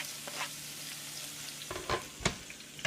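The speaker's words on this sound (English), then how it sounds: "Let this garlic saute for like a quick 30 seconds" Garlic sautéing in a pan for a stuffed sweet potato dish; a soft, steady sizzle is joined toward the end by several scraping stirs and clatters as the pan is worked.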